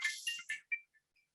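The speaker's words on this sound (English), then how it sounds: "And excuse my phone here, I'm going to have to ignore it" A mobile phone's ringtone plays a few short, bright electronic chirps that quickly fade and trail off into near silence.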